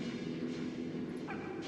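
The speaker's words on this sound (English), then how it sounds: "Doggo, I hear you." Dog barking faintly in the point-and-click game Dropsy, a soft yip over a steady background hum, with no talk.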